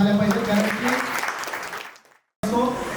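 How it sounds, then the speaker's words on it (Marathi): Guests applauding at a 50th birthday celebration, a broad burst of clapping mixed with voices that fades out, followed by a short silence and then the crowd noise resuming. "एकदा जोरदार टाळ्या झाल्या पाहिजे"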